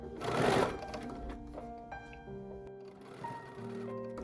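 Sewing machine stitching over the raw edges of fabric for a pumpkin trivet, starting with a loud burst of motor whir, then a steady mechanical hum with shifting tones, no talk.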